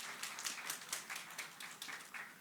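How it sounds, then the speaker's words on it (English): Applause from an audience at a poetry and performance session: steady, faint patter of many hands clapping, heard from a distance with no voices over it. "A huge round of applause to both Anita and Rajivan."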